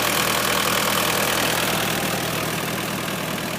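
Diesel engine of a 2019 Wacker Neuson EZ53 zero tail mini tracked excavator idling close by, a steady low rumble with a faint rhythmic knock throughout, no voices.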